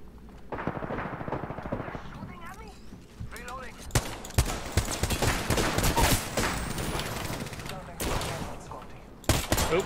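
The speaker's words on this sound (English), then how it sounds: "They're shooting at me." Rapid gunfire in the Apex Legends battle royale game, bursts of automatic shots and scattered single cracks, loud and close, running almost continuously with a voice talking over parts of it.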